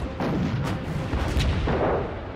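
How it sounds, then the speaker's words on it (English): World War II US aircraft carrier Enterprise anti-aircraft guns firing during a Japanese air attack, rapid overlapping booming bursts, loud and close with no pause, no voices. "even with the carrier guns banging away"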